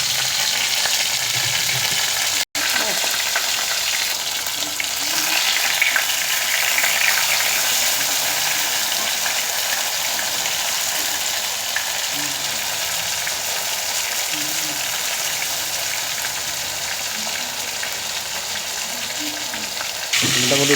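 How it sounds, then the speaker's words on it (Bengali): Bombay duck fish frying in a pan in a home kitchen, a steady, loud, continuous sizzle and crackle of hot oil that lasts throughout without a break. "মোটামুটি ভাজা হয়ে গেছে।"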